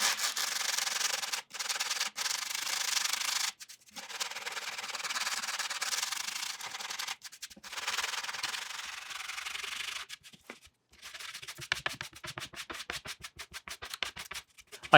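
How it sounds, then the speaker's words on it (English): Sandpaper wrapped on a stick rubbing along a wooden kayak paddle made from reclaimed board, long steady scraping strokes up close, shifting to quick rapid back-and-forth rubbing near the end, with no talking. "sandpaper on a stick does a great job of finishing off the transition"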